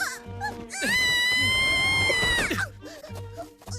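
Several dogs in an anime yelp and whimper in short bursts around a long, high sustained tone, amid other effects and brief voice sounds.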